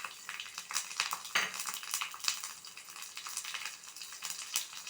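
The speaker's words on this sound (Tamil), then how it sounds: "எண்ணெய் சூடு ஏறினதும் மிளகு, சீரகம், இந்த உரித்து வச்ச பூண்டு பல்," Pepper, cumin and peeled garlic cloves hit hot oil in a pan, giving a steady crackling sizzle broken by repeated sharp spattering pops and a few utensil scrapes, close and with no voices.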